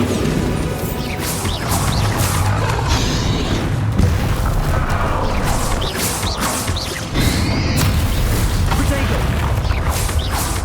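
In the Hogwarts Legacy video game, Bombarda blasting spells go off again and again as booming explosions and crashes over dense action noise, with a voice shouting between the blasts.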